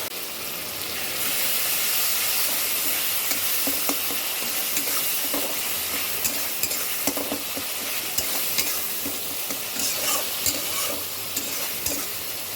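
Onions frying in a pan in a home kitchen, a loud continuous sizzle and hiss with scattered crackles and occasional stirring scrapes, close and steady throughout without talk.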